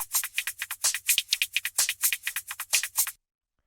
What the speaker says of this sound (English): then we have all of these background hi-hats, which sound like this